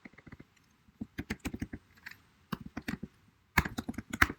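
Keystrokes on a computer keyboard during setup of a Django project, coming in quick bursts of sharp, close clicks separated by short pauses.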